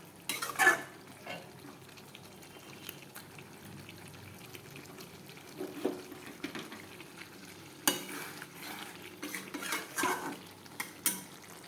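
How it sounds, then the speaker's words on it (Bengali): Country chicken sautéing in a pot while a utensil stirs it, giving quiet, intermittent scraping and clinking with a faint sizzle and no talking. "এই যে মাংসটা বসানো হয়ে গেছে, যে কষাইতেছে দেখো, কষা কষা হবে।"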